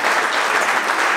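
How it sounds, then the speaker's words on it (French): A show audience breaks into a brief, loud burst of dense applause that lasts only about a second, with many hands clapping close together and no talk. "Je vous demande vraiment d'applaudir Raphaël."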